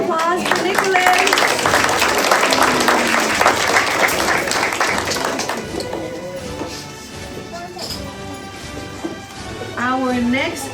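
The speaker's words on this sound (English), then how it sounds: "A huge round of applause for Nicholas" Applause for a kindergarten graduate at a class graduation ceremony, loud crowd clapping and cheering that fades slightly midway, with voices and whoops mixed in and a brief swell near the end.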